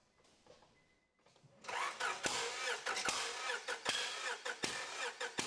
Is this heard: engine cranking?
yes